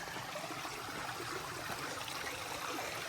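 Small rapids of a stream at a water source beside a trail shelter on the Appalachian Trail, a steady, even rush and trickle of flowing water heard alone without any talk.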